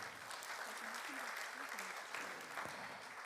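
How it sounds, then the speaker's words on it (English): A conference audience applauds throughout, dense sustained clapping from a large crowd at a summit opening session, steady and fairly even in loudness, with faint voices mixed in. "let's give another big round of applause to our minister"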